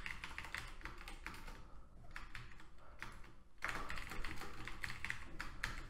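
Fast bursts of typing on a computer keyboard while writing Node.js code, quick close clatter of key taps in two runs separated by a short pause, fairly quiet and with no voices.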